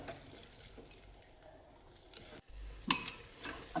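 Roasted moth beans (matki) are stirred and sautéed with spice paste in a pan, making a quiet, close sizzle with soft scraping strokes and a few sharper knocks of the spoon against the pan.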